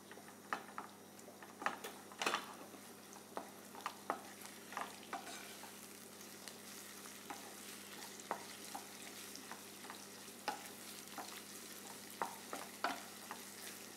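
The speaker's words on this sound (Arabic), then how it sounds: "انا وعم بقلي البصل" Onions fry in a pan with a soft, steady sizzle, broken by frequent quiet ticks and clicks of stirring, close and faint with no talking.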